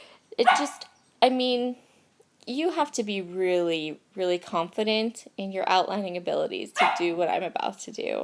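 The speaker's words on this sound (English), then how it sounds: "I'm sorry if you can hear the dog barking." A dog barks and yips in the background of a home scrapbooking session while someone talks almost continuously over it.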